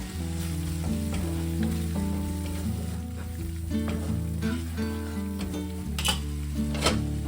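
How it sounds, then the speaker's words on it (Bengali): Pav bhaji masala sizzles steadily as it is fried and stirred in a pan, a continuous hiss running through the whole stretch beneath background music. "এর মধ্যে এক চামচ মতো পাও ভাজি মশলা অ্যাড করছি"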